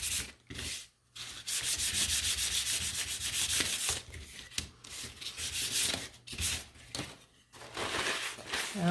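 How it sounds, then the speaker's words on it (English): Sandpaper rubs steadily over a small wooden craft piece shaped as a gnome's beard, a close, continuous scratchy hiss in long strokes broken by brief pauses. "I forgot to do that last sanding"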